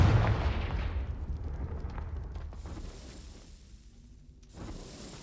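A Confringo fire spell from Hogwarts Legacy on PS4 bursts with a loud blast that trails into a long rumbling roar, fading before a second surge near the end, with no talk.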